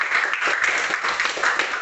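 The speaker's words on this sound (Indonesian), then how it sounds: "Tepuk tangan untuk jawabannya." Secondary school students in an Indonesian-language class clapping for a correct answer, a quick burst of light applause at moderate level, brief and unaccompanied by talk.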